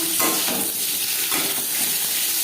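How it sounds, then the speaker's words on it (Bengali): Pieces of boiled potato frying in the oil left from frying paneer, a steady, close sizzle with some stirring running through it and no voices. "পনির ভেজে নেওয়া তেলে আলু ভেজে নেব"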